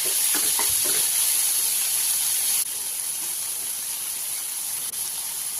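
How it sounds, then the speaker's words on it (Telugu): Chopped tomatoes and onions frying in a pan give off a loud, steady, close sizzle and hiss that continues without a break, with a slight drop in level partway through. "2 మీడియం సైజు టమాటాలని చిన్న ముక్కలుగా కట్ చేసుకుని టమాటాలను కూడా వేసి టమాటాలు కూడా మగ్గేంత వరకు వేయించుకోవాలి"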